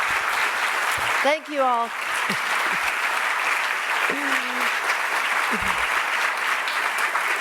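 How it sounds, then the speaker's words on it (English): Loud audience applause fills the room steadily from start to finish, with a voice briefly speaking over the clapping. "I know that applause was really for our 40th wedding anniversary today."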